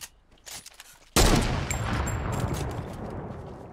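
Gunfire in the video game Fortnite: a few faint shots, then a sudden loud blast that rolls off into a long, rumbling decay.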